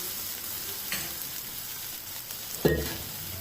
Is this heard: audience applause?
no